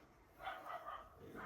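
A neighbour's dog across the road barks a few times in the distance, faint short yips outdoors with no talk over them.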